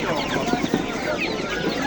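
Young chickens, about eighteen days old, cluck and chirp in a busy overlapping chatter at an outdoor poultry market in Andijan, with the sound close and steady throughout.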